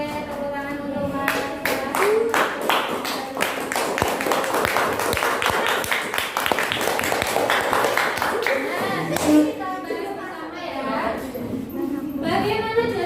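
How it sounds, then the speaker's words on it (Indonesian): An audience claps in a dense, continuous patter that runs throughout, mixed with a voice speaking over the applause. "tepuk tangan untuk Mas"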